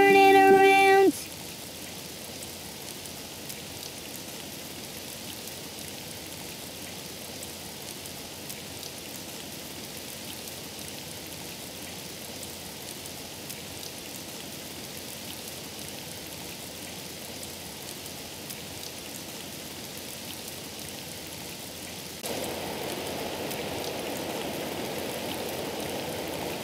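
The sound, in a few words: rain falling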